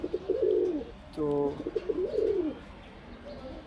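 A green-necked Giribaz pigeon, a hen that has just laid her first egg, gives soft, close, repeated coos in two rolling bursts, with a brief voice between them.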